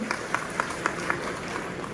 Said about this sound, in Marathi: आमच्या वर्षाताईंसाठी एकदा जोरदार टाळ्या झाल्या पाहिजेत